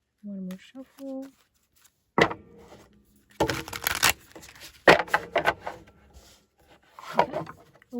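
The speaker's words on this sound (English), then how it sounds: "One more shuffle." Tarot cards are shuffled in a few quick bursts of riffling and slapping, close and fairly soft, separated by brief pauses.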